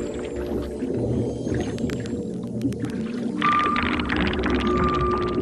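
An Arctic whale vocalizes underwater beneath sea ice, sending out a dense stream of clicks, chirps and rising whistles over a steady low rumble, with a clear sustained whistle near the end.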